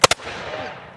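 Two sharp, loud musket-style shots crack in quick succession at a battle reenactment, then an open-air echo rings out and fades.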